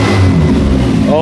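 A demolition derby car engine, push-started by touching a wire to the starter, cranks and catches, rumbling loudly up close before briefly rising in pitch.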